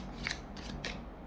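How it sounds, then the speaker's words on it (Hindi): A deck of tarot cards is shuffled up close in three quick, soft, papery riffling swishes, with no talk. "Let's shuffle again."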